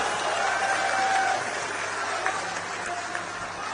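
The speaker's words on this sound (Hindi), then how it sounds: "कहा कौन बिठाएगा हमें, तो पूरा सदन तालियों से गूंज उठा" A crowd fills an assembly hall with sustained applause during a Kumar Vishwas speech: dense, steady clapping that swells early and then holds loud throughout.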